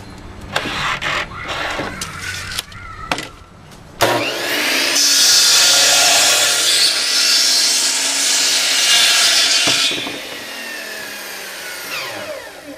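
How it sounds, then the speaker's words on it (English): A power saw rips through a leftover wooden 2x12 board, opening with a few short knocks and handling sounds before a loud, steady whining cut lasts about six seconds and winds down, close and alone. "first thing I'm going to do is cut a base out of a leftover 2x12 I got"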